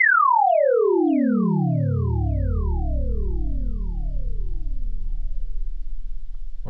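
Sci-fi synth tones built by windowed sinc synthesis from single-cycle waveforms in Renoise: a series of about eight loud, smooth descending chirps that sweep down into a deep sustained drone, each starting shortly after the last.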